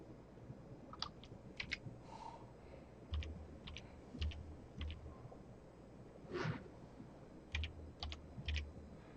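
Typing on a computer keyboard in quiet bursts of clicking keystrokes separated by short pauses, close and faint, with no talk.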